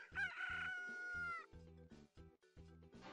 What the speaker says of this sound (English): To call the rooster,